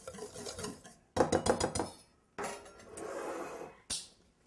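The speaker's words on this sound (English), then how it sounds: "Just give it a little mix." Dry cake batter ingredients, baking soda, salt and cornmeal, being mixed in a bowl for an apple upside-down cake: brisk clinking and scraping strokes in short bursts, close and fairly loud, with no talking.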